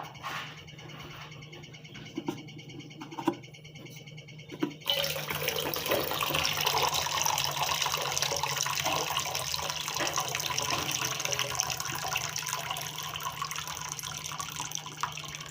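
A few light clinks, then water drained from a cooking pot of vegetables pours out in a steady, continuous gush that runs on without pause until the end.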